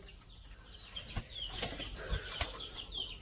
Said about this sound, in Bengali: দুইটা নর কবুতর এই দেখেন কীভাবে ঝগড়া লাগবে